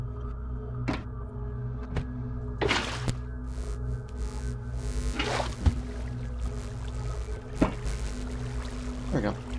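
Water being placed and flowing in Minecraft: splashy pouring and dripping bursts recur every second or two over a steady low ambient hum, with a voice talking at times.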